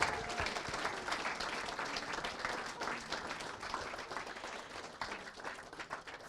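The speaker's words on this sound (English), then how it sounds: "Please give them a round of applause, everybody." Guests at a wedding ceremony applaud the couple, a full, continuous burst of clapping from a sizeable crowd that holds steady the whole time.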